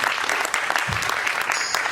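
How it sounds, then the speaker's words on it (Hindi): Audience clapping at a Bollywood musical night for a woman on stage, a steady spread of many hands with a brief low thump partway through and some faint background noise. "एक बार आप लोग ताली बजा दीजिए मैम के लिए।"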